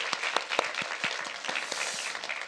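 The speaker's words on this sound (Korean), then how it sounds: "우리 좋으신 주님께 큰 영광의 박수 올려드려 볼까요?" Church congregation applauding in praise to God during a Sunday service, a dense, fairly even patter of many hands with some distinct close claps cutting through, continuing without speech.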